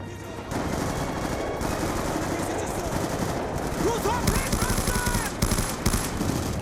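Gunfire rattles through a Call of Duty Black Ops II battle, dense repeated shots layered over continuous combat noise and music, with no speech.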